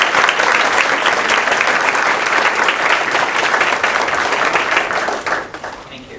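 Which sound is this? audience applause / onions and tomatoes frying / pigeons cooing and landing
audience applause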